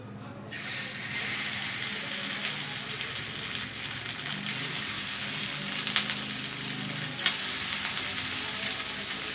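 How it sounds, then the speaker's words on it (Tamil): Sankara fish pieces fry in a pan, added one at a time for a fish fry, giving a loud, steady close-up sizzle that runs the whole way through with a couple of faint clinks. "அப்படியே நாங்கள் ஒவ்வொரு மீனாக போட்டு வறுத்துக்கிட்டே இருக்கோம்."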